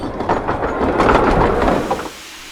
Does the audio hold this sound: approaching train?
yes